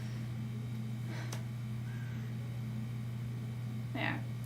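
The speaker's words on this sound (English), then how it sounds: "Yeah, I could hear the crow call fine." A crow-call alert sound plays during a live stream, giving two brief, faint caws over a steady electrical hum.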